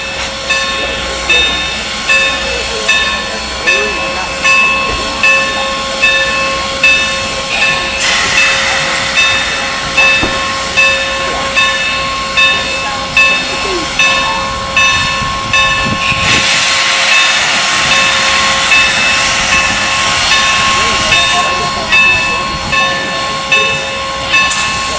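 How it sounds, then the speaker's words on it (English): A steam train on the Strasburg Railroad hisses and chuffs in a steady rhythm, with long, loud whistle blasts sounding over the rolling noise; no voices. "Did you hear those train whistles out there?"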